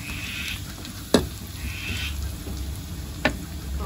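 Mushrooms fry in oil in a pan with a steady close sizzle. Two sharp clacks of a utensil strike the pan, and soft stirring scrapes run between them. No voices.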